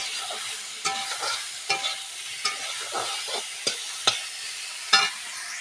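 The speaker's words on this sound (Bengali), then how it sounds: "এবার বেগুনগুলো একটু লাল লাল করে ভেজে নেব।" Thin eggplant slices fry in hot oil in a pan with a steady bright sizzle, broken by regular clicks and scrapes of a spatula stirring them.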